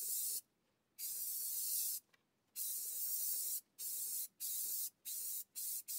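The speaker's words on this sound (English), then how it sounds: "when adding the stone texture, I find it works out better to pulse the nozzle rather than hold it down for a continuous mist" Spray paint for a stone texture finish hisses from an aerosol can nozzle in short pulsed bursts, about seven spurts of varying length separated by brief silences, close and fairly soft.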